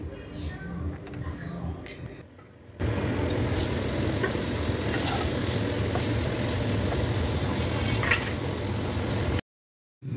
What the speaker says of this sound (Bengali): এমনি করে পুরোটা পনির আমি ভেজে নেব